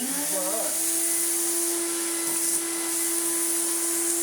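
A well-used 1992 Numatic NV200 vacuum cleaner, fitted with borrowed poles and floor head, drones steadily up close with a sustained motor whine and airy rush, after a short rising pitch as it spins up.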